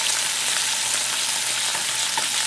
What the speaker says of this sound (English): I do like to have the ground beef cooked very well done.